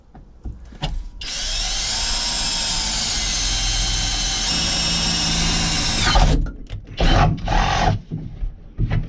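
A drill bit bores through the sheet metal of a VW Crafter/Sprinter van cab with a loud, steady high-pitched whine and grinding for several seconds, then cuts out, followed by a few short clanks and handling noises.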